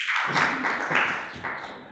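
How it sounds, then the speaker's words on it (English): A small online audience at a New Yorker editorial product event clapping, a short patter of applause that swells and fades over two seconds, close and moderately loud with no talking. "Good clap."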